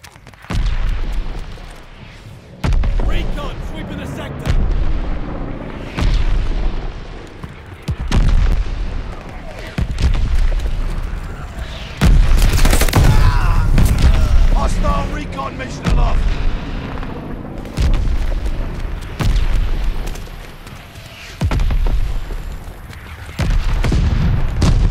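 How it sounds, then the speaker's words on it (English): Mortar fire in the mobile shooter COD Mobile, a run of heavy booming explosions landing one after another in bursts, loud and close, with gunfire and game voices mixed among the blasts. "Heads up! Allied mortar fire coming!"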